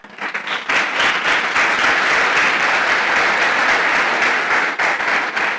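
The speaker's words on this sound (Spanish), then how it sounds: "¿Usted cree que Dios merece un aplauso?" A church congregation breaks into applause during a Spanish-language sermon, rising quickly from a few claps into loud sustained clapping that stays strong and even before tapering slightly at the end.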